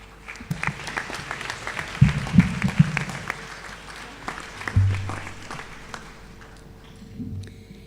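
Scattered applause rises and fades in a graduation ceremony hall, a few bursts of clapping from the audience for the graduates, fairly distant and thin, with brief low thumps and murmurs between.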